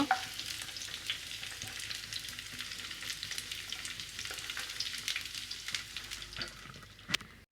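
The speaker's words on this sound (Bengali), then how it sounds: "ভাজা হয়ে যাবে কপিটা হালকা বাদামি রং হয়ে গেছে এবার আমি কপিটা তুলে নেব" Cauliflower florets fry in hot oil, giving a continuous close crackling sizzle with light stirring scrapes throughout and a sharp knock near the end.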